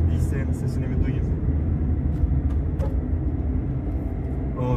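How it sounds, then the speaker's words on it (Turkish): Renault Symbol with a 1.5 dCi diesel engine running: a steady low rumbling drone holding throughout, with someone talking over it. "O gümbür gümbür dizel sesini"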